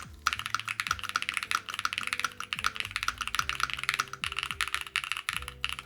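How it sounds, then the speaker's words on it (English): Steady, brisk typing on a YUNZII AL65 mechanical keyboard with the spacebar gaskets removed, close and clear, a dense run of clacky keystrokes with no talking. "I want to just see what this sounds like with, because I'm still going to take off the keycaps and stuff."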